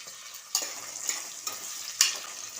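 Lengthwise-sliced onions sauté in oil in a pan over low heat, a quiet sizzle broken by a few light stirring clinks, close by and without talk.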